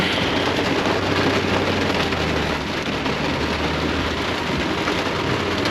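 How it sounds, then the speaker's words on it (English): Heavy rain pouring down at a tight campground where a big rig is parked, a dense continuous hiss of drops drumming on surfaces with a low rumble beneath, steady and close with no talking. "And look at the rain"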